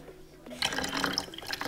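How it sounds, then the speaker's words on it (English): Vinegar poured into baking soda in a bottle starts a bubbling fizz that begins abruptly and keeps up a close, busy crackle of popping bubbles, with a voice faintly under it. "now we're gonna add the vinegar."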